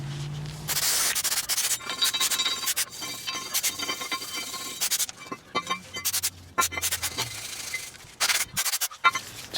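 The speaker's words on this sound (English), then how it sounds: "clean this piece off with brake fluid and your metal brush" A metal wire brush scrubs a car brake part clean on a 2002 Nissan Maxima, producing harsh, close scratching strokes in irregular bursts, with light metallic clinks between them.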